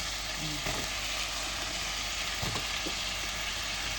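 Onion, tomato and garlic sauté in a pan with a steady broadband sizzle and a few soft stirring clatters, close and continuous, no voices.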